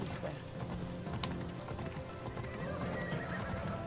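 Hooves of a horse clip-clop rapidly in Assassin's Creed Odyssey as a rider gallops through an area, with a brief whinny near the start, loud and close.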